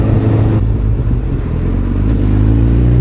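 Suzuki Hayabusa motorcycle on the road, its engine a steady droning hum with low harmonics and rushing wind noise, holding an even pace throughout with no talk.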